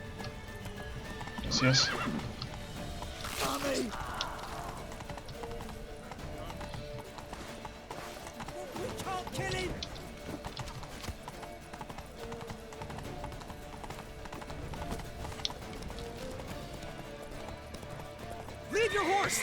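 Horse hooves clip-clop and a horse whinnies in The Witcher 3, mixed with game effects and music, while voices speak over the scene in bursts.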